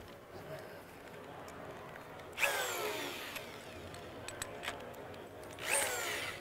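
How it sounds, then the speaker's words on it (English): A power drill with a large hole saw bites into a plastic rain barrel, giving two sharp grinding bursts over a faint, steady background. The sound is fairly quiet and somewhat distant. "I don't know if anybody uses these larger hole saws, but if your drill has a lot of torque, you can almost pop your wrists"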